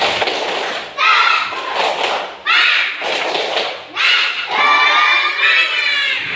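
A classroom of children chants loudly in unison, their shouted phrases broken by sharp bursts of rhythmic clapping, with short pauses between the bursts.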